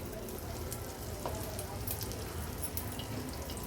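Mustard seeds and spices for a tempering crackle and sizzle steadily in a small amount of hot oil, a close, continuous fizzing hiss without a pause.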